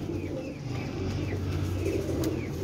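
Teddy pigeons coo softly and repeatedly at close range, with a low steady murmur in the background and no speech.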